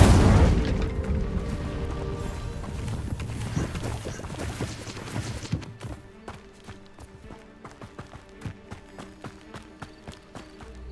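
Incendio fire spell from Hogwarts Legacy, loud whooshing bursts of flame packed densely at first, then a rapid series of sharp cracking pops and thuds spaced through the rest, close and intense with game effects around it.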